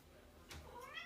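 A house cat meows at a door, a short single call rising over a low background hum, moderately near and not very loud.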